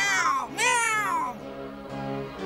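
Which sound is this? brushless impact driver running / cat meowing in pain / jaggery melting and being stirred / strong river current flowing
cat meowing in pain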